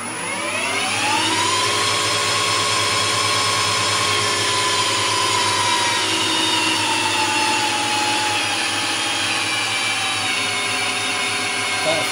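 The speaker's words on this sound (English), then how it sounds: "Let's put the lathe in the correct speed, shall we?" A metal lathe with a VFD and gearbox spinning up to about 1,000 RPM, a loud steady motor whine with rising tones that then level off into a constant hum, running alone.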